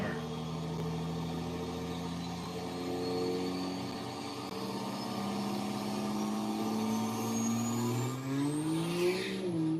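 A 2008 Cummins 6.7 diesel truck doing a boosted launch, engine note building under load then rising sharply near the end, loud and sustained with no talk over it.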